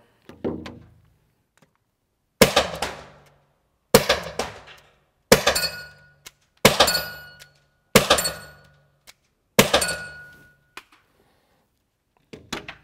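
An Umarex HDR 50 T4E defense revolver fires rubber balls in six sharp, loud shots spaced about one and a half seconds apart, each a hard crack with a short ringing decay, plus a fainter pop at the start and end.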